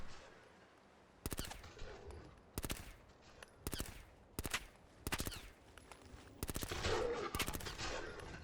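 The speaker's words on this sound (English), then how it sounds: "I honestly dislike how much this SMG sounds like a fucking airsoft gun" SMG fire in modded Fallout 4, heard as repeated short bursts of rapid automatic shots, about six or seven volleys spaced a second or so apart, loud and close over a quieter game background.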